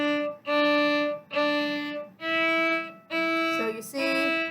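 Bowed string instrument playing a slow line with loure bowing: five sustained, pulsed notes, each gently swelled and softly separated from the next by a small release, played close and clear with no talking.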